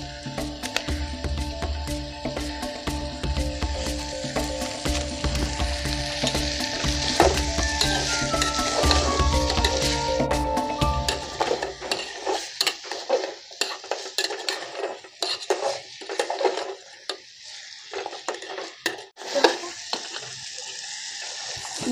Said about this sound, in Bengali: বন্ধুরা এবার আমি একটু অল্প নুন দিয়ে ভালো করে নাড়াচাড়া করে নেব।